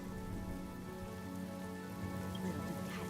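Rain patters steadily on surfaces in the game Honkai: Star Rail, a soft even wash of drops under a faint sustained musical hum, with no voices.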